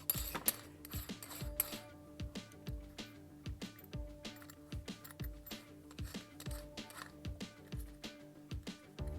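A Milwaukee cordless drill's keyless chuck is being hand-tightened around a drill bit, producing a rapid series of sharp ratcheting clicks in irregular bursts, close and fairly quiet, with no talking.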